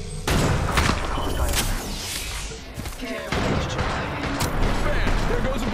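Rapid gunfire bursts and impacts in the video game Apex Legends, dense and loud throughout with booming shots and crackling hits, while a character voice speaks over the action.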